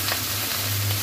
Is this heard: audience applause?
no